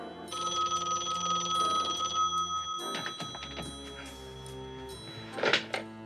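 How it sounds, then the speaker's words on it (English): A telephone bell rings loud and close in a police crime drama, a sustained metallic trill followed by a couple of dull thunks and a short clatter near the end. "Bill, answer the phone. Answer the phone."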